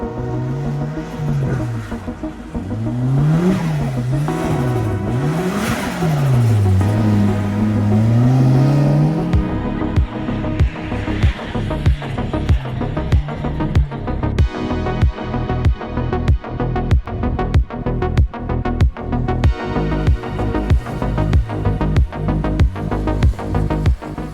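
An autotest car on the course, running on half a tank of fuel: the engine revs rise and fall in quick swoops, then settle into a hard-driven, rapidly pulsing roar, loud and close throughout.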